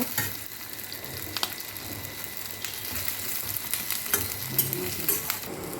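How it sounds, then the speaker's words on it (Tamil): Steady frying sizzle of okra in a hot pan, with occasional scrapes and clinks of a spatula stirring; no voices. "அதிலே வெண்டைக்காயும் போட்டு நல்லா வணக்கிடலாங்க"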